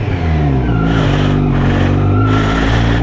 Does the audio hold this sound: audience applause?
no